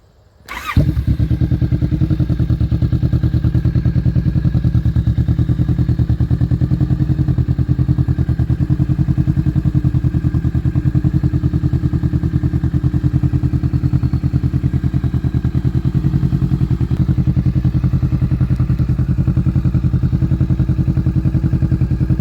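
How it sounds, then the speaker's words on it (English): A 2019 Kawasaki Vulcan S motorcycle fitted with a 21-inch, 550mm Delkevic exhaust fires up, then settles into a loud, close, steady idle with a deep, pulsing rumble that lasts the whole stretch. "This is 2019 Vulcan S with a 21-inch 550mm Delkevic"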